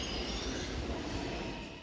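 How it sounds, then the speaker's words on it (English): New York City subway train running, a steady broadband rumble and rail roar with a faint high wheel whine, loud and continuous, fading slightly at the end. "New York's subway is the backbone of the city, essential to its daily flow."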